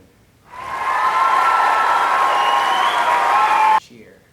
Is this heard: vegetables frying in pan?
no